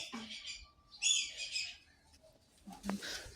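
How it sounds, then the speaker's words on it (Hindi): A kite gives a few thin, high-pitched calls, moderately near, in short bursts separated by quiet gaps. "चील की भी आवाज़ आ रही थी।"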